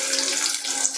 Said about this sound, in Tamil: நமக்கு தேவையான வெண்டைக்காய் எடுத்து நான் அலசிட்டு